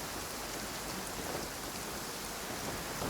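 Rain in Genshin Impact pours as a dense, steady hiss with no talk, loud and even from start to finish.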